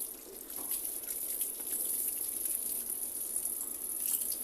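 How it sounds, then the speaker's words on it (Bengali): Water runs steadily from a tap as a container is filled, a constant hissing gush with no talk. "দেখো জলও চলে এলো, তোমাদের দাদাভাই ওদিকে জল ভরতেছে"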